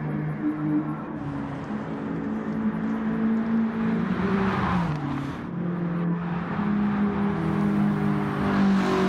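Race cars lapping in a sim racing video game, with steady droning engine notes from several cars that rise and fall together, a brief dip mid-clip, then a loud sustained roar.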